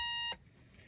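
A single sustained electronic beep, a Morse code dash from a key and oscillator, that cuts off abruptly, leaving quiet room noise.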